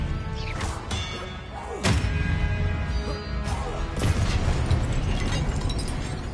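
Confringo explosive spell blasts in the Hogwarts Legacy game, several heavy thuds and bangs among crashes and clanking during combat, loud and close with a constant rumbling backdrop.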